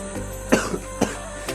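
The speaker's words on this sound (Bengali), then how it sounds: "এত কাশি হচ্ছে" A person coughs several times in quick, close, harsh bursts, roughly one every half second, with quiet room tone in between.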